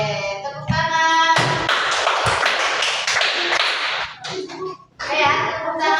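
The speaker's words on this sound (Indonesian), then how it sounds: "Oke, tepuk tangan." Ninth-grade pupils clap their hands together in class for roughly three seconds, bright and busy, set between stretches of a teacher's voice.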